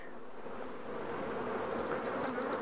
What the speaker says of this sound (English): So they have nurse bees, that's what that is, the feeders